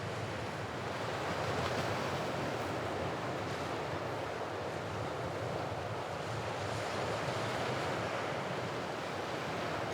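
Surf washes steadily against the rocky Corsican coast under gusting wind, a dense, continuous roar of breaking waves without pause.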